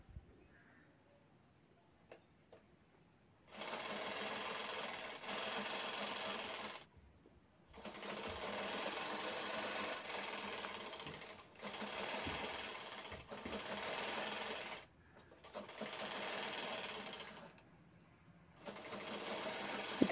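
A sewing machine top-stitching a zip strip runs in steady, buzzing bursts of several seconds each, stopping and restarting five times with quiet pauses between runs.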